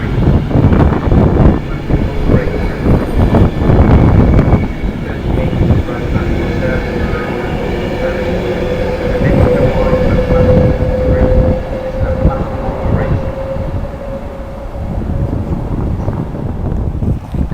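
An 11-coach Virgin Pendolino train rolls into Birmingham International station with a loud rumble and a sustained whine, with wind buffeting the microphone throughout.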